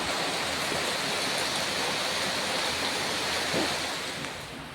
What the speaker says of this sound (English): started raining now.